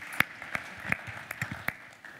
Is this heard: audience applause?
yes